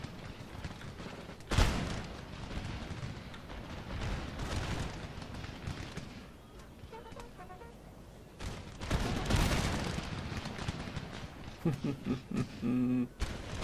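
Massed musket volleys from British line infantry in Empire: Total War, with sharp loud bursts near 1.5 and 9.5 seconds over a continuous rumble of battlefield gunfire and crowd noise.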